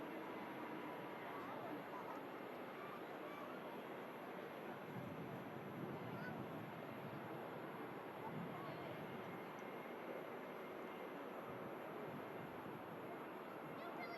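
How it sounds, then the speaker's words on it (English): A one-year-old Egypt Air Airbus A320neo comes in to land at Manchester Airport, heard as a faint, distant, steady roar that swells briefly in the middle before easing off. "Egypt Air, 1-year-old airframe. Beautiful Neo about to land."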